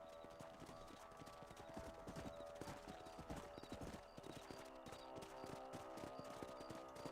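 Horses' hooves clip-clop in a video game, a busy run of overlapping hoofbeats under faint background sound, quiet overall.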